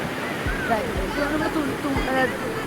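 Water rushing down dam-like stone steps at a waterfall near Mahabaleshwar makes a continuous, even roar. It holds steady throughout, with people talking over it.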